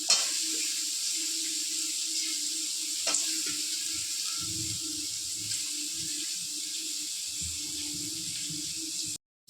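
Squeezed bitter gourd pieces frying over high flame in a pan, a steady close hiss and sizzle with occasional stirring scrapes and soft knocks, ending abruptly.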